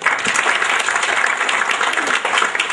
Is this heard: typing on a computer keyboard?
no